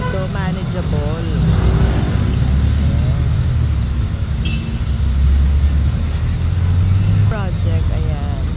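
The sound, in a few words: road traffic in Jaro Plaza, Iloilo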